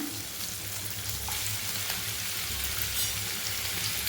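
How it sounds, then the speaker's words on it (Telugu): Tomatoes go into a hot frying pan for paneer kaju masala curry, a steady sizzle and crackle of frying that holds evenly throughout. "ఇప్పుడు టమాటా వేసేస్తున్నాను."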